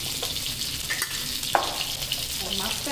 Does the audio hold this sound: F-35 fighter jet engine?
no